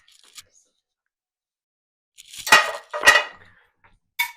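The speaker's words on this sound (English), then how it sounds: "I'm going to take this beautiful brioche and just slice it down the middle like that" A knife cuts through a brioche loaf down the middle, giving two short, close rasping sawing strokes in an otherwise quiet kitchen, with a brief clink at the end.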